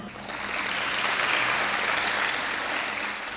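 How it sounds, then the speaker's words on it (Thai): Audience applauding an instructor being introduced at a Thai evening performance event, a dense wash of clapping that swells, holds steady for a few seconds and eases slightly at the end. "ขอเสียงปรบมือให้กับอาจารย์ โสภาสณตะกัวทุ่ง"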